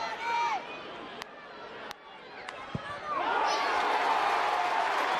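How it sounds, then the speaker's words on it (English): A stadium crowd at a 2013 All-Ireland senior football qualifier, Kildare against Tyrone, rises into a broad, sustained roar that swells after a few seconds and holds loud to the end, with a few sharp knocks and faint voices before it. "Crowd cheers for Doyle's 5th point of the match."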